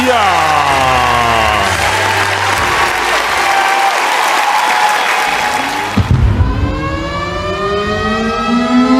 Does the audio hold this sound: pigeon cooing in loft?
no